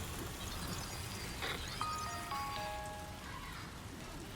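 Rain in the video game Death Stranding 2, a soft steady patter of drops on surfaces, fairly quiet, with a few faint tonal game sounds drifting over it partway through.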